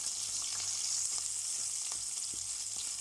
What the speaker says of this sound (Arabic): حطيت دهنه كده بسيطه عليها بصله، وقلبناها كده وشوحناها لحد ما بقت زي ما انتم شايفين كده باللون ده